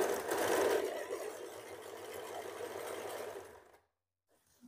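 Sewing machine stitching a seam from the cuff end of a fabric sleeve, a steady close whirring run for nearly four seconds that cuts off abruptly into near silence.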